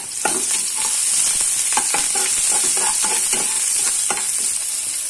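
Chopped onions and garlic frying in oil for cabbage Manchurian, a loud continuous sizzle punctuated by repeated stirring scrapes and taps of a utensil against the pan.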